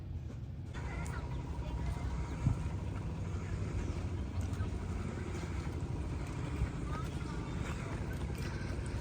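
Boat on the Sharavati River near Honnavar, a steady low engine rumble with water and wind noise running throughout, fairly close and constant, with no talk.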